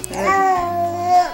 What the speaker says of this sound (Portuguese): E comecei a emitir meus primeiros sons além do choro.